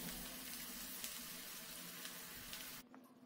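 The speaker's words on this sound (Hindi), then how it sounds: "अभी मैं कढ़ाई में उसको फ्राई करती हूँ।" Suji kakra sizzling steadily as it fries in oil in a kadhai, a dense continuous crackle that cuts off sharply near the end, leaving a faint clink.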